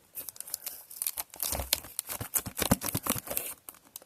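Faint crinkling and ripping of loosely stuck, worn sticky tape being handled up close, irregular crackly bursts with no talking.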